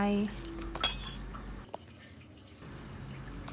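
Ground chili is spooned into a Thai salad dressing as metal utensils clink and tap against a bowl, with one louder clink and a few softer knocks close by.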